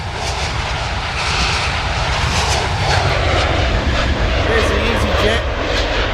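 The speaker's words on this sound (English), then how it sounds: "the EasyJet going in. That was an Airbus A320, by the way." EasyJet Airbus A320 jet passing overhead in the Train Sim World 2 video game, a loud continuous roaring engine drone that holds steady throughout, with a brief spoken word.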